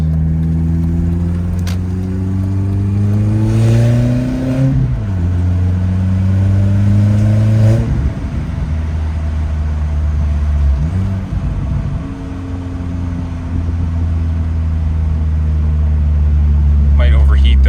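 Car with a 1.8T engine on its first drive, close and loud, revving up through gears with rising and falling engine tones, steady droning between shifts.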